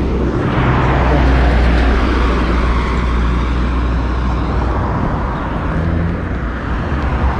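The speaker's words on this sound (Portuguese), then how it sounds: "Nossa, do nada eles vão passar um monte de carro" Many cars stream past on a nearby road in a residential neighborhood, a loud, continuous rushing roar of traffic close to the listener without any talking.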